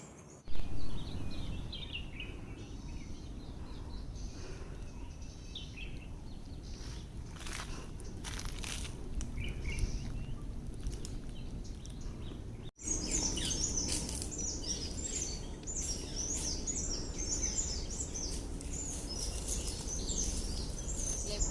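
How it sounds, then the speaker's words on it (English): Many birds chirp and sing in the distance at a bird sanctuary near Karnala Fort, a busy layered chorus over a soft outdoor background, continuing steadily throughout. "So you can hear the voice of the birds."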